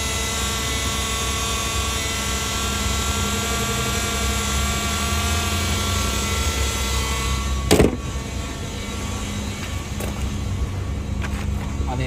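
A 2014 Nissan Maxima's 3.5 liter six-cylinder engine idles with a steady, even hum, heard up close with a brief sharp knock partway through.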